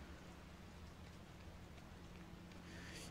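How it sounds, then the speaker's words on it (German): Steady rain patters outside in Project Zero, a continuous soft hiss of falling drops with no voices, holding an even level throughout. "Auf jeden Fall regnet es draußen."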